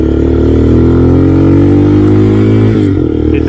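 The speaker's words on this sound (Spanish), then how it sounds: "El escape tiene mucho ruido." Exhaust of a 2022 Vento Screamer 250cc motorcycle revving loud and close, a steady throaty drone with pitch gently rising then dropping near the end, engine sound alone.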